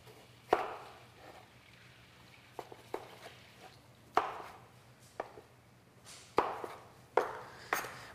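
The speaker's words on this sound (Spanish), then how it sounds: "voy a cortar en cubos grandes una media pieza de cebolla" Half an onion being cut into large cubes with a knife on a cutting board, a series of sharp, separate chopping thuds at an irregular pace, close and fairly quiet, with no talking.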